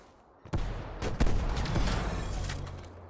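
Rapid gunshots in Call of Duty: Black Ops Cold War, a sharp loud shot followed by a quick volley of several more in close succession, with a heavy rumbling tail that fades slowly.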